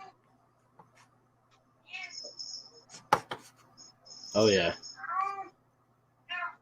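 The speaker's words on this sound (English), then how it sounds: "You hear my cat?" A pet cat meows repeatedly at close range while hunting its toy, with sharp clatter and knocking sounds between the calls and a short spoken remark.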